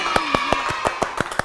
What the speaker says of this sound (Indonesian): kita mau tepuk tangan dulu